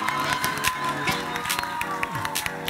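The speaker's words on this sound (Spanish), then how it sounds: "Un aplauso para Maurito." A television game show studio audience claps and cheers for a contestant, brisk rhythmic clapping with shouts and music-like tones layered throughout, loud and busy.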